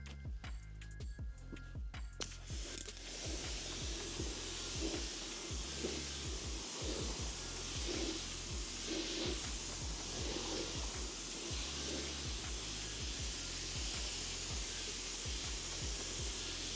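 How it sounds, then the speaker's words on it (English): Water sprays in a steady, close hiss across a car's ceramic-coated paint during a wash, with rapid ticking bursts at the start and a continuous rushing spray after. "Let me give it a wash again."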